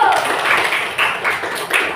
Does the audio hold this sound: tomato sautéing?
no